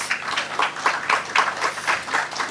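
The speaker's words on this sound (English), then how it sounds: "So I think all the participants require a big round of applause" Seminar audience applause at a national seminar on ethical governance, steady clapping from a modest crowd that is fairly close and even throughout, with no break.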